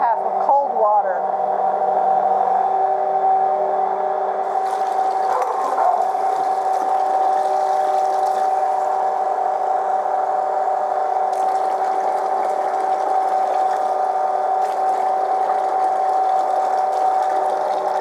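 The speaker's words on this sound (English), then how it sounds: "you need a cup and a half of cold water." Cold water streams steadily from a tap into a measuring cup, a continuous hiss and pour with a faint rising fill tone, beneath steady background hum.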